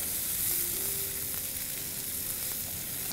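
Salami fries over high heat in a pan, making a dense, even, close-up sizzle that holds steady the whole time with no speech.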